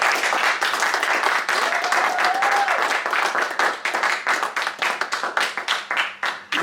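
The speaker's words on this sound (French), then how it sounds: "Je mets des applaudissements pour eux." Applause at a slam poetry evening in Cannes, a dense, lively burst of clapping from a small crowd that thins into scattered, separate claps toward the end.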